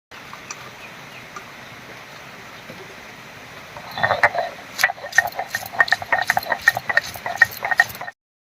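Garlic cloves and green chilies being lightly crushed in a kitchen, a run of sharp scraping and tapping strokes starting partway through, fairly close over a quiet background.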